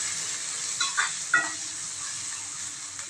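A steady sizzle of onions sautéing in a hot pan, with a few soft clinks of stirring near the start; no talking.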